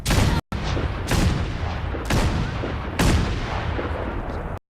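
Heavy artillery fires in the Fallout 4 game, four deep, booming blasts about a second apart. Each rolls into a long rumbling tail, loud and close, with no voices.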